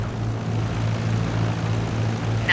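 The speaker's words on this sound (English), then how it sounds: "Let the plane settle onto the runway." A plane touches down on a runway in Microsoft Flight Simulator 2020, with a steady, even engine drone and a low hum holding throughout.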